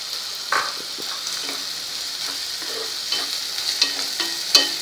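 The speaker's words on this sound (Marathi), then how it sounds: "आता आपल्याला घालून घ्यायचा आहे पातीचा कांदा. हा बघा, आणि हा मध्यम आचेवर 2 मिनटं आपल्याला तेलात शिजवून घ्यायचा आहे." Chopped spring onion frying in oil over medium heat, a steady soft sizzle with a few louder crackles and spoon scrapes scattered through it, close up and with no talking.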